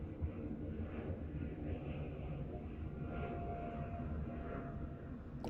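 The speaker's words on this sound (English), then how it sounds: "Sounds like a big plane." A big plane passes overhead, a steady broad low rumble and roar holding at moderate distance for several seconds with no talk.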